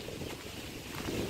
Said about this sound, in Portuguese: É, muito vento aqui.